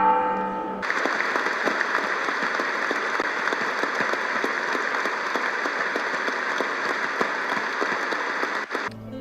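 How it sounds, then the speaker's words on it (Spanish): Worshippers at the Basilica of Guadalupe give a farewell to Pope Francis with dense, continuous applause: a steady, crackling wash of many hands clapping at a moderate distance for several seconds. "Con aplausos y campanadas despidieron al Papa Francisco en la Basílica de Guadalupe"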